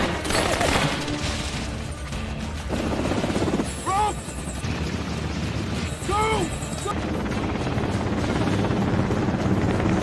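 A helicopter's dense rotor roar fills a film battle scene alongside bursts of gunfire as it evades RPG fire, with a couple of brief whooshing sweeps cutting through the din.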